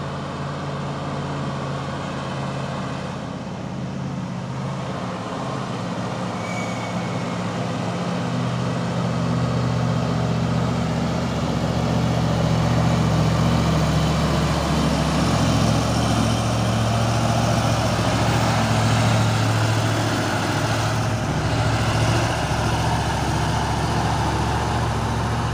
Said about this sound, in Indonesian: Oh, ini ada lagi truk Puso.